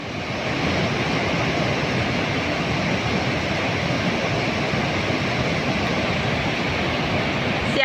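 Loud, steady rushing of water flowing inside a glacier in Norway, a constant roar with no breaks, heard close by.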